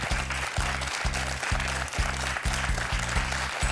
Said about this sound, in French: Est-ce qu'on peut applaudir Pierre-Yves quand même?